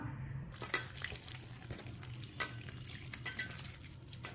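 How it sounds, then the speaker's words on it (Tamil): A batter of three flours with salt and water being mixed by hand in a bowl for crispy dosa, giving soft wet squelching and sloshing strokes at close range, fairly quiet and steady. "இப்போ மூணு மாவையும் போட்டு கலக்கிறேம்மா உப்பு போட்டு கலக்கிறேன்"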